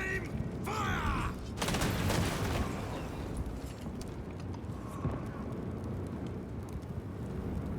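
A firing squad fires a volley of gunfire in Warhammer 40k: Space Marine 2, heard as a couple of loud, crackling broadband bursts that fade into a steady, murky rumble of battlefield ambience.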